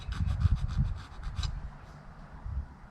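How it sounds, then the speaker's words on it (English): A metal file scuffs the blade of a brand new buzzbait fishing lure in quick, rhythmic rasping strokes, close up and moderately loud. The strokes fade into a faint scraping. "I want to take my file and I want to scuff that up also."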